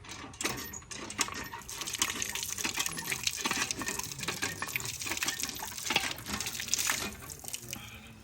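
Cold water from a hand pump splashes and gushes into a container, a busy, uneven, clattering flow at moderate distance with no talking.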